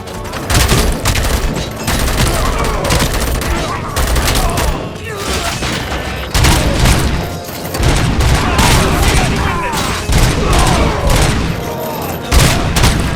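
Heavy gunfire in RoboCop Rogue City, loud dense volleys and booming shots in near-continuous bursts, with shouted voices mixed in among the firing.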